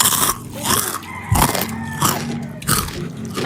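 Close, loud crunching bites into fried chicken during a mukbang meal, several crisp bites and chewing bursts in an uneven rhythm, with no talking.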